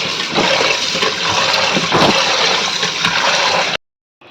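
Tap water gushing and splashing steadily while fish are rinsed, loud and close for several seconds before cutting off abruptly, with no voices.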